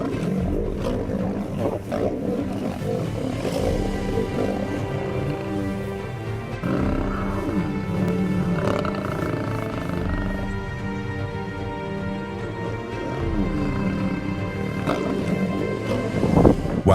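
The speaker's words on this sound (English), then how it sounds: "The roar of a lion echoes across the savanna." A lion roars on the savanna: deep, rumbling roars repeat across the whole stretch, loud and close over a steady low background.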